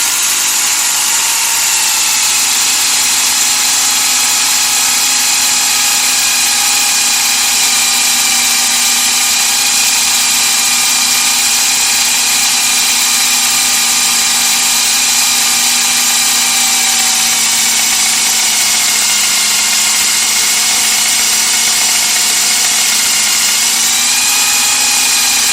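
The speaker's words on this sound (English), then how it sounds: "I'm going to take this rag and add a load to the drill to increase the current." Power drill motor running steadily with a rag pressed against it as a load, a loud continuous whine with stable tones that shift slightly in pitch near the end, no voices.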